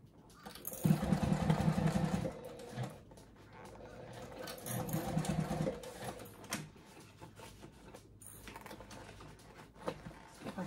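A semi-industrial sewing machine stitches through thick layers of a bag in two or three bursts of fast rhythmic clatter, close by, separated by quieter handling noises.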